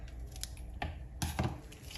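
A few quick snipping sounds from scissors cutting the tip of a piping bag of cocoa mixture, two or three short crisp cuts close up with quiet gaps between, no talking.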